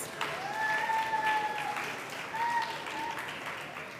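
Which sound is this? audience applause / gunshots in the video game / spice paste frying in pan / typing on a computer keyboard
audience applause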